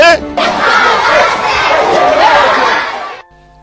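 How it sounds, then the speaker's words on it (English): A loud crowd at a political rally in Edo State, Nigeria, roars and shouts together for about three seconds, a dense wall of cheering voices that cuts off abruptly into near silence. "Make we clap for Governor Godwin Obaseki"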